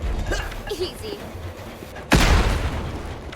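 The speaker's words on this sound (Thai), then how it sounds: "อุ้ยโดนระเบิดแรงเหมือนกันนะะ" A bomb in the game Propnight goes off with a sudden loud boom that breaks through a busy game background and then rumbles away.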